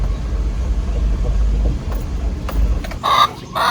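Chickens in a farm coop during heavy rain: steady loud rain roar throughout, with a few short clucks and fowl calls bursting out near the end.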